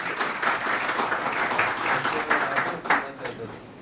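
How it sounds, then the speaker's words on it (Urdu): Audience applause in a hall welcoming a keynote speaker, a moderate crowd clapping in uneven bursts, fairly close, with a few voices underneath. "آپ کی پرزور تالیوں میں"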